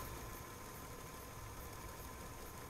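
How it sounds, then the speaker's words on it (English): Pumps circulating dyed resin in an automatic mixing vat for specialty 3D resin printing give a steady, even mechanical hum with a broadband wash on top, constant and unbroken throughout at a low, close level. "the flow of the resin with the pumps that I have set up is, to me, it's just perfect"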